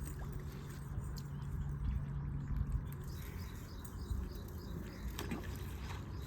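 A fishing reel whirs and clicks as a feeder rig is cast out at a freshwater fishing spot, a soft mechanical rattle over a steady outdoor rumble of wind and water.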